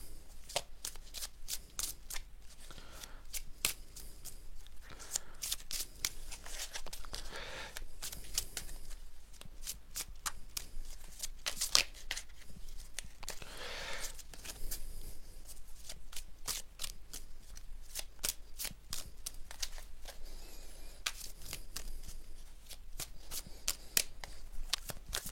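A large deck of cards shuffled over and over, a steady stream of close, soft flicking and riffling clicks with no pauses, low in level over a faint hum, with nobody speaking.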